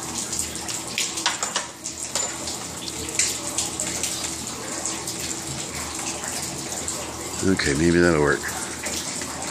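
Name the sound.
water leaking through roof into warehouse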